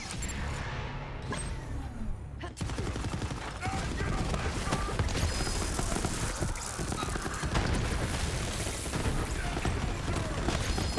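Dense gunfire and explosions from the Kaoson pistol in Borderlands 3 rattle on without pause, one sharp burst after another, with a heavy blast near the start and a constant chaotic din throughout.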